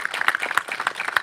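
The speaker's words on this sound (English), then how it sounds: "let's give them another round of applause" Audience applause at a gun violence prevention awareness event, a steady patter of many hands clapping together without break, moderately loud throughout.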